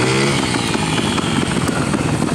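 A motorcycle engine idling steadily just after starting, with the choke being taken off; a continuous, close, loud engine drone with a low rumble that holds even throughout.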